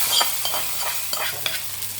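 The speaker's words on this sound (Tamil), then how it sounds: "கொஞ்சம் கடுகு தாளித்து வடகை தாளித்து போட்டுருவோம்" Mustard seeds and vadagam temper in hot oil for a veg fish curry, giving a steady crackling sizzle with scattered sharp pops and stirring scrapes, close and fairly loud with no talking.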